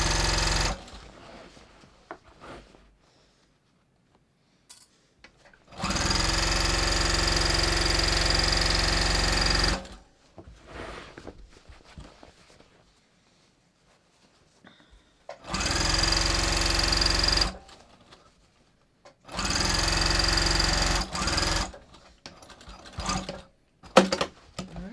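A sewing machine stitches through denim on a pair of flared jeans in three loud, steady runs of rapid mechanical whirring, separated by quiet pauses with small handling clicks.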